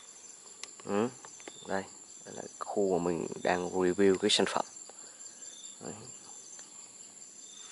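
Crickets chirp outdoors in a scenic garden with flowers, a constant high, thin trill running through the whole stretch beneath someone talking close by.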